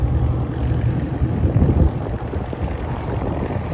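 Exhaust of a tuned, catless Dodge SRT, a steady deep rumbling drone heard up close from start to end, with wind noise and no talking.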